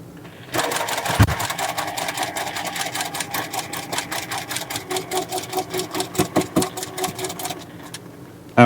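A sewing machine stitches a curved quilt seam with a quarter-inch piecing foot and short stitch length, a steady rapid mechanical whirr running alone for several seconds, quickening slightly near the end.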